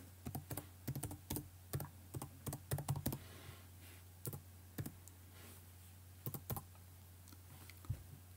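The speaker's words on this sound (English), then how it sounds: "Here type our password." Password typed on a computer keyboard: quick bursts of crisp, close key clicks in irregular clusters separated by short pauses, quiet room, no talking.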